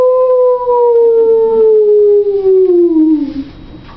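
A voice imitates a wolf howl, one long sustained pure tone that slowly slides downward in pitch before trailing off.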